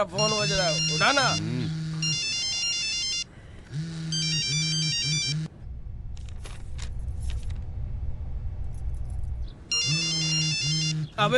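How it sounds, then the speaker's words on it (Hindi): A phone ringtone repeats in loud melodic bursts, cutting out for a stretch of rustling and jangling keys before resuming; a voice speaks over the ringing. "अबे तेरा फोन बज रहा है, उठाना।"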